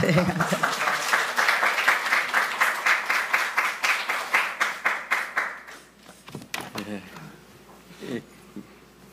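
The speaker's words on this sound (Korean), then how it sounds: "우리 총장님께 박수 드려도 될까요?" Church audience applauding a guest speaker, steady dense clapping for about six seconds before it thins out into a few scattered claps and murmuring voices.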